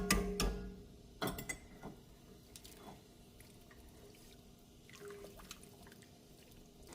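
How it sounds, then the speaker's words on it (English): Drained canned white kidney beans and small red beans tipped into a soup pot: a short wet slide and plop at the start, then scattered soft drips and light clinks fading into near quiet, close by with no voice. "I'm going to add 2 15-ounce cans of drained beans. I'm working with white kidney bean and a small red bean going in."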